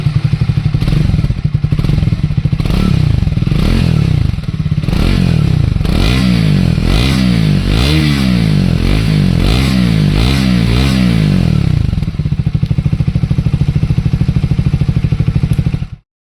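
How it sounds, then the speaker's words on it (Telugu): A Triumph Thruxton 400 motorcycle's exhaust runs loud and close, with a steady engine drone and a series of revs rising and falling in the middle before it settles back to a steady idle-like rumble, then cuts off. "అలాగే ఎగ్జాస్ట్ సౌండ్ కూడా స్లైట్గా చేంజ్ అయింది."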